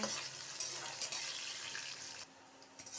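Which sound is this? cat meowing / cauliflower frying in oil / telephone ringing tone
cauliflower frying in oil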